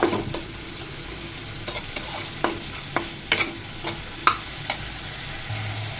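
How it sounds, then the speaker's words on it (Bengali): Boiled helencha greens are stirred in a pan as they dry out, giving a faint, steady sizzle with sharp, irregular clicks of a spatula scraping the pan. "শাকটাকে আমি একদম ভাজা ভাজা করে নিয়েছি, সমস্ত পানি শুকিয়ে নিয়েছি।"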